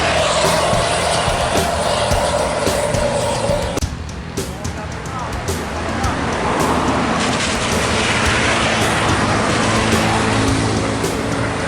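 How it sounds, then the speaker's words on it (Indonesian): A tourist bus passes along a road at Batang Pamo, its engine and road noise loud and steady, dipping briefly midway before swelling again, with other traffic around. "Bus pariwisata melewati Batang Pamo bosku."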